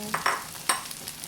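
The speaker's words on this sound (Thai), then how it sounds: "ตามด้วยข้าวสวย แล้วก็ผัดให้เข้ากันนะคะ" Cooked rice and sliced steamed pork sausage are tossed and stirred in a hot pan over medium heat, with light scraping clatter and soft sizzling in short irregular strokes.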